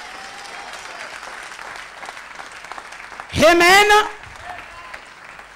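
A church congregation at an evening service breaks into a short, loud burst of applause with shouts mixed in, framed by a preacher speaking before and after.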